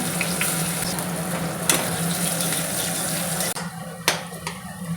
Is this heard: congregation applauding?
no